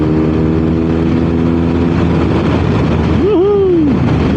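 A BMW R 1250 RS motorcycle engine drones steadily with a low harmonic rumble, then revs up sharply near the end as it accelerates, close and loud.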